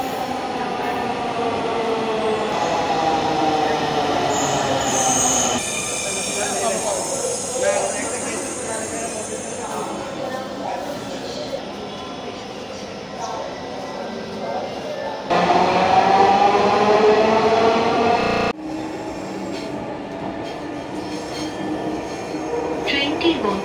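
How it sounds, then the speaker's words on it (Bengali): A Dhaka Metro rail train runs with a continuous loud rumble and whine, wheels squealing, tones shifting as it speeds and slows, heard from inside with voices talking over the noise. "তো এই হলো ঢাকা মেট্রো"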